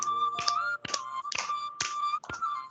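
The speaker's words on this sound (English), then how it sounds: "this process is known as clapping therapy" Hands clap firmly as a clapping therapy exercise, five sharp claps in an even, steady rhythm, close and clear over a faint background tone.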